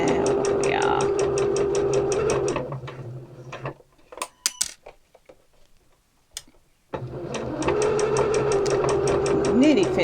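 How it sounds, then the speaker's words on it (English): Domestic sewing machine stitching a seam in fabric, running in steady rapid rhythmic bursts at the start and end with a pause in between filled with small clicks and handling sounds, close and loud. "There, we have just sewn the seam."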